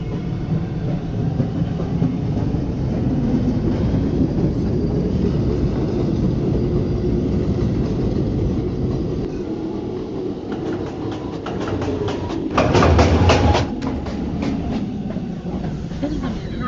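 A Manhattan-bound NYC subway 2 train rumbles along the tracks with a steady, loud roar and a burst of rapid clickety-clack near the end, close and continuous, with no voices.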